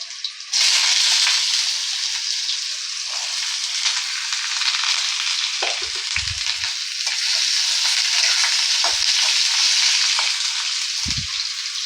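Potatoes frying in hot oil in a kadai, a loud sustained hiss and crackle after they drop in, with a few soft low thumps of stirring or tossing along the way.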